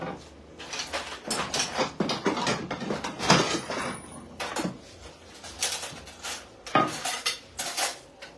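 Pots, pans and metal utensils clatter and scrape in a home kitchen while Algerian boureks and spicy potatoes are being prepared. The clinks and knocks come close and irregular, and quiet talk is heard now and then.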